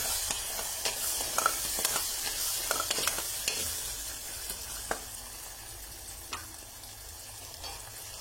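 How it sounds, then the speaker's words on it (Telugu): Ginger garlic paste fries in a pan with a steady soft sizzle and occasional scrapes of a spoon stirring, moderately close with no talking. "కొంచెం ఫ్రై అవనిద్దాము."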